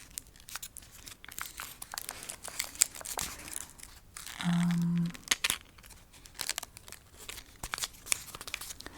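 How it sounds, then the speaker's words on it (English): Close, sharp crinkling and crunching of a stiff folded-paper origami crane being handled in bursts, with a brief low hum partway through. "I do have the origami crane. It's very crunchy."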